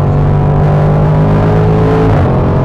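A loud Range Rover Sport SVR engine roars steadily close by, its pitch holding and then shifting slightly as the revs change.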